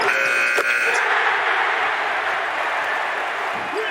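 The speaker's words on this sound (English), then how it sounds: "Right at the buzzer of the shot clock." A basketball shot clock buzzer blares during a Duke vs. NC State ACC men's game, a short tonal blast over a loud, roaring arena crowd that keeps cheering after it ends.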